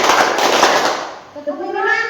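A class of children clapping together in a school lesson, a loud burst of many hands that fades into a child's sung or chanted voice.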